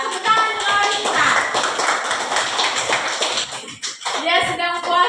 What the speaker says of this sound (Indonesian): Tepuk tangan untuk Anissa.